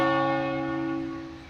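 A church bell rings with a single strong, rich tone that slowly fades, heard clearly and fairly close, with a fresh strike just beginning at the end.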